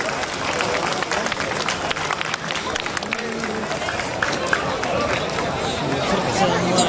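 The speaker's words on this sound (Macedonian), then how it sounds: "Да ја поздравиме со аплауз, ве молам." An audience at the official opening of the Veles 2025 sports games claps continuously to welcome a sponsor's representative, a steady ripple of applause mixed with crowd chatter and murmuring voices.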